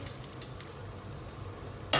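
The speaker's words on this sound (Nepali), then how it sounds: "अब चाहिँ फेरि यसलाई एकछिन भुट्छु" Fish curry ingredients fry in a pan with a steady, quiet sizzle throughout, ending in a brief sharp clatter.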